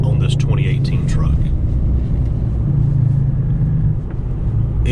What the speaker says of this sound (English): I just want to show how well the exhaust brake works on this 2018 truck.